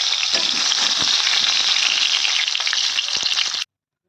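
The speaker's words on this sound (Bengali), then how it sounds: "মাছগুলো কিন্তু আমার ভাজা হয়ে গেছে, পুরো লাল লাল করে মাছগুলো কিন্তু আমি ভেজে নিয়েছি" Fish fry in hot oil, turned deep red, with a loud, close, continuous sizzle and crackle that runs unbroken before cutting off abruptly near the end; no one speaks.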